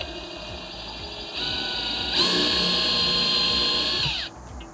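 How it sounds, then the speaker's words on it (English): A power drill pre-drills and drives a screw while a side mount post and aluminum handrail are installed, whining at low speed and then rising to a louder steady high-pitched run for about two seconds before spinning down. "I can pre-drill and run my first screw in"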